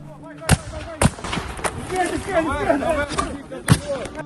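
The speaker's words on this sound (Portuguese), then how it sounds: "Ele aparece nessa imagem, atirando em alvos fictícios." A soldier in Ukraine fires at practice targets, sending out four sharp, loud gunshots at uneven intervals while a voice talks over the shots.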